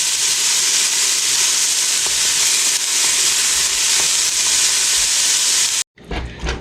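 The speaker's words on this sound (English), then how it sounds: "stir that up a little bit. Just gonna cook it just a little bit there." A loaded baked beans mixture cooking in a pan gives a loud, steady hissing sizzle with faint stirring clicks. It cuts off abruptly near the end, and a brief rustle follows. No one talks.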